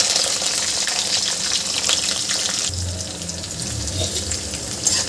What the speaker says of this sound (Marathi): यामध्ये आपल्याला कढीपत्ता घालायचा आहे आणि कांदा घालायचा आहे.